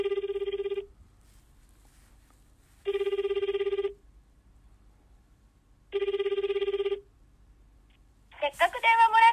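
A telephone ringing on an outgoing call, three evenly spaced electronic ring bursts of about a second each with silent gaps, followed by a brief burst of voice at the end.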